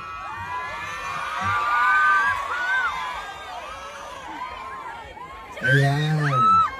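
A crowd at a stage event in Dubai cheers, shouts and whoops, with children's voices rising in loud bursts at the start and again near the end, mixed with voices speaking over the noise.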